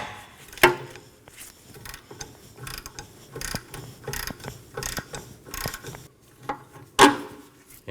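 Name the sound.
ratchet breaking loose 18mm shock bolt, Nissan Maxima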